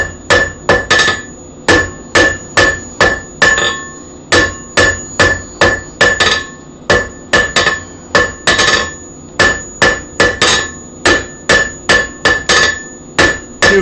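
A hammer forges half-inch hot steel stock on an anvil while finishing a nail header, ringing out in steady, loud, close blows in pairs and runs, each with a bright metallic ring that continues for the whole stretch.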